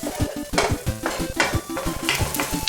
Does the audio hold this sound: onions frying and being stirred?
yes